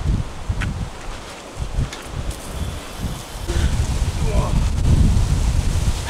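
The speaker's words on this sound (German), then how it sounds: "Oh, der Wind ist aber auch echt krass." Strong cold wind buffets the microphone at a beach near a shipwreck in Greece, a loud roaring rumble with gusts that swell toward the end, along with faint background sounds.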